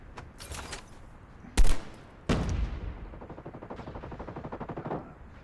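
An AN-94 Abakan assault rifle fires in Call of Duty: Mobile: one sharp shot, a second loud blast, then a fast even burst of rapid rounds that fades off, loud and close with no talk over it.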